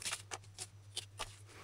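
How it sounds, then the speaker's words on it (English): Food scissors cutting bok choy, a series of soft, close snips spaced at irregular intervals over a steady low hum. "You can use a food scissors if you're not comfortable using a knife."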